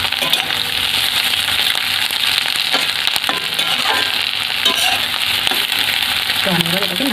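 Raw banana frying with egg and onion in a pan, a continuous loud sizzle with occasional stirring clinks, close up and with no talking.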